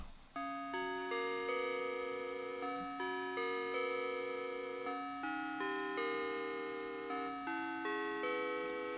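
Inharmonic, bell-like synth tones from Ableton Operator play a slow melodic sequence of struck, ringing notes with bright overtones, each decaying before the next, clear and alone with no talk.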